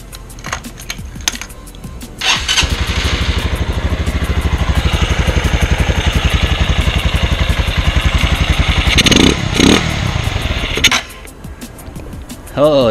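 Cold engine cranked and catching into a rapid, loud, pulsing idle that chugs for several seconds, then sputters and dies, with brief mechanical clatter before and after.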